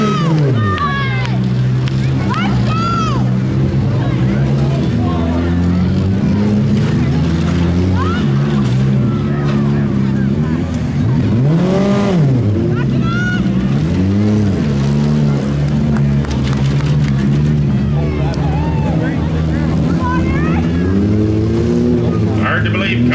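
Demolition derby cars in a mini smash heat at Beeton, Ontario rev and grind through rising and falling engine roars, with a loud announcer talking over the crowd throughout.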